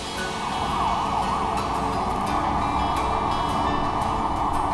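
An ambulance siren wails continuously in a steady, loud, rising and falling sweep that stays close and unbroken throughout, with no voices.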